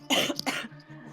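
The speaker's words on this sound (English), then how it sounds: "I'm going to cough." A single harsh cough from a person, close and loud, ending in a brief throat-clearing rasp before fading into quiet room tone.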